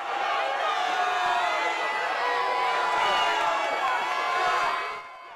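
Protesters shout from a crowd as the Liberal leader leaves a campaign event in London, Ontario: a dense, continuous roar of raised voices that stays loud throughout and fades slightly at the very end.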